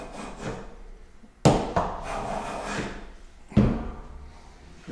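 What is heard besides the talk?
hand plane taking wide shavings off a wooden board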